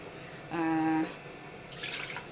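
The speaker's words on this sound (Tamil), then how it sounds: "இந்த அரிசி கழுவுன தண்ணி நான் வச்சுருக்கேன் அதை வந்து குழம்பு எவ்வளோ வேணுமோ நம்ம அட்ஜஸ்ட் பண்ணி சேர்த்துக்கலாம்" Starchy water left from washing rice is poured into a simmering village-style mutton curry, giving a short liquid splash and trickle followed by a faint bubbling, with no talking.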